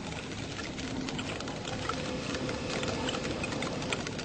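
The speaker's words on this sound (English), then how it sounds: "By snapping its claws, it can not only make communication sounds, but something far deadlier" A pistol shrimp snaps its claws underwater, producing a dense, continuous crackle of fast clicks and pops, even and unbroken throughout.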